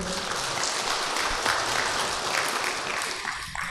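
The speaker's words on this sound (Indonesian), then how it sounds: "Coba sekarang tepuk tangan. Ayo tepuk tangan," An audience claps hands together at a talk, giving a continuous, moderately loud patter of applause from many people that holds steady and eases slightly toward the end.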